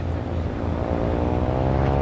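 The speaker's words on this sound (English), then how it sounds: "After a smooth takeoff, Sergio puts the plane through its paces." A droning propeller aircraft engine during aerobatics such as loops and corkscrew spins, steady and fairly loud, with a constant hum and harmonic buzz throughout; no voices.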